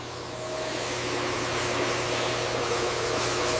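A hose sprays a thin skim coat onto a sunken EMD F7 locomotive under restoration, a steady close hiss that swells slightly in the first half second and then holds even, with no talk.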